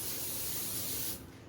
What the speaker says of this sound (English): I'm just going to spray it with a little cooking spray